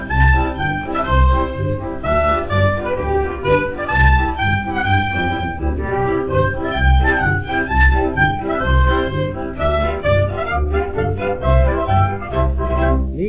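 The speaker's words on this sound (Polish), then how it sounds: "Muzykanci, zagrajcie marsza" A wedding band plays a brisk march on a 1929 Polish 78 rpm Columbia record of a Kraków-style wedding, with full, steady ensemble music throughout and dense instrumental texture over low, rhythmic bass.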